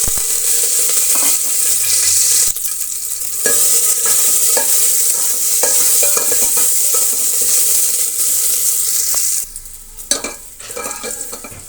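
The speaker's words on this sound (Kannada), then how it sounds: "ಸ್ವಲ್ಪ ಸಾಸಿವೆ ಸೇರಿಸ್ತಾ ಇದ್ದೀನಿ. ಅದರ ಜೊತೆಗೆ ಸ್ವಲ್ಪ ಈರುಳ್ಳಿ ಮತ್ತು ಕರಿಬೇವಿನ ಸೊಪ್ಪನ್ನು ಸೇರಿಸ್ತಾ ಇದ್ದೀನಿ." Mustard seeds, chopped onion and curry leaves sizzle loudly in hot tempering oil for a ridge gourd sambar, with steady close frying crackle and stirring scrapes throughout, ending in a few sharper clatters.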